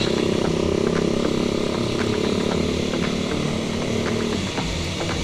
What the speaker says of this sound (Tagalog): Ang ingay ng motor ni kuya.